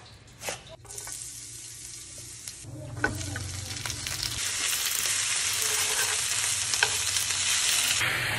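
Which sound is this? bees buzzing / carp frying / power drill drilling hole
carp frying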